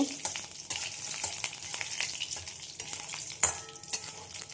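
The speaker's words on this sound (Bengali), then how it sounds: "বড়িগুলো ভেজে নেব" Lentil dumplings (bori) fry in mustard oil in a pan, giving a steady close sizzling hiss broken by sharp scraping and stirring clicks, with no talking.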